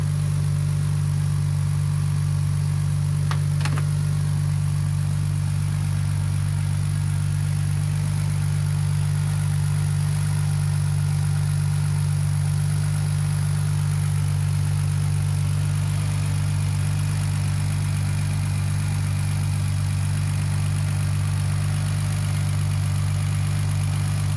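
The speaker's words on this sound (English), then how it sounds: "right now it's idling without the idle control valve" A BMW E46 engine idles with its idle control valve removed, a steady, low hum for the whole stretch, unchanging and fairly loud, with a brief faint click early on.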